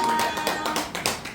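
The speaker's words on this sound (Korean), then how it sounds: "박수 한번 드립시다" Applause from a Korean New Year gathering audience, a dense patter of many hands clapping close by, steady and lively throughout the short stretch.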